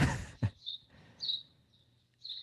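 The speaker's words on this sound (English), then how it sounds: "I could hear the birds" Faint high chirps of birds come from the distance in short separate bursts, with a quiet room and a soft knock between them.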